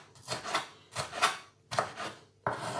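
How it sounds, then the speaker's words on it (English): A knife chops a red pepper into small pieces on a board, four distinct bursts of close, crisp cutting strokes with short pauses between them, no talking. "And then we'll cut up this red pepper. So nice thin slices. And then back through again."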